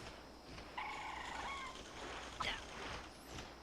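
Birds in the video game Resident Evil Outbreak let out a few shrill, wavering cries, harsh and slightly distant. They rise over a dim, noisy game ambience, followed by a short sharp burst.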